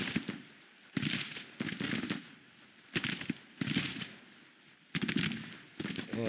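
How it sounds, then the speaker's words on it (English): Artillery and infantry fire in the Civil War strategy game Grand Tactician, bursts of crackling musket volleys and booms recurring every second or so with short lulls between, distant and layered, no talking. "Under artillery fire and walking into infantry fire."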